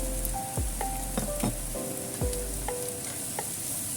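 Peppers and onions stir frying in a pan for a chicken casserole, a steady close sizzle with stirring clatter and scrapes throughout, no talk.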